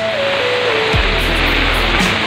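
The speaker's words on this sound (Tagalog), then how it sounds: "Ayan na po yung baha." A flooded river rushes past in a continuous loud broadband roar during an evacuation, steady and close, with a passing engine tone underneath and no speech.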